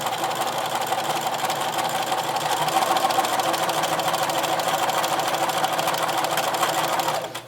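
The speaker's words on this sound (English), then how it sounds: "I am just going to start to sew" Sewing machine stitching along the edge of a fleece infinity scarf, a steady close whirring hum with rapid needle chatter running continuously for several seconds before stopping abruptly.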